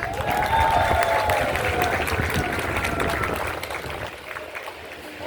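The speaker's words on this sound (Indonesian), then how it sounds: "Mana tepuk tangannya?" Applause from an audience at a political campaign rally in Jakarta, a dense wash of clapping mixed with crowd murmur that stays strong for several seconds and then gradually thins toward the end.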